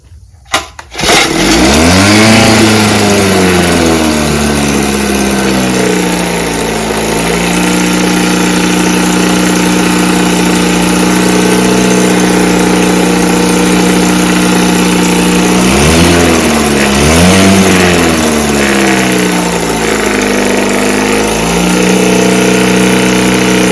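A small Evinrude 5.5 horsepower outboard motor starts after a brief silence, then settles into a steady, close idle with a loud, even throb. Its pitch swings up and back down a couple of times midway before holding smooth again.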